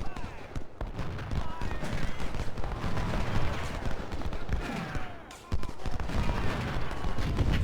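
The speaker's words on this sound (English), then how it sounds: "We've got 36 guns shooting at that unit right there." Massed cannon and infantry musket fire in the Civil War battle game Ultimate General: Civil War, set at Everettsville, roll out as a dense, continuous crackle of shots, briefly dipping once, with a voice talking over it.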